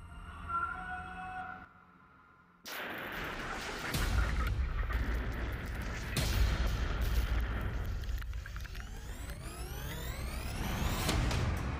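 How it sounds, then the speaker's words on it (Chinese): Drill-and-blast explosives shatter hard granite inside a railway tunnel: a short tonal lead-in and brief hush give way to a sustained, loud, rumbling roar of blasting and falling rock that keeps going to the end. "只能用钻爆法将它们炸碎，再清理出去"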